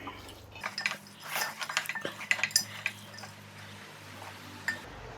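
Beef fry being stirred in a pan, with a spoon clinking and scraping against the metal in a series of close, uneven strokes and a faint background hum.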